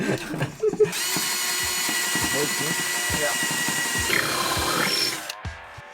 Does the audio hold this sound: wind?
no